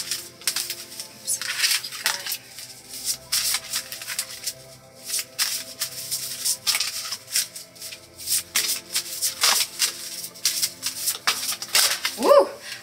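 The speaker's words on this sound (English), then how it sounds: "I'm just going to keep shuffling until we really have one that calls to me." A tarot card deck is shuffled repeatedly in quick riffling bursts with short pauses between, close and fairly quiet, with no talking.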